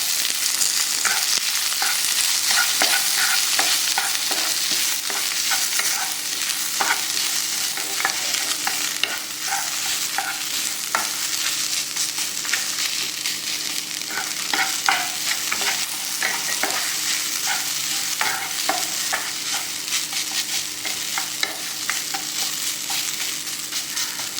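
Ginger sautés in a pan with dried chillies, garlic cloves, curry leaves and coconut for a ginger tamarind chutney, making a loud, unbroken sizzle threaded with quick stirring scrapes and ticks, close by and without speech.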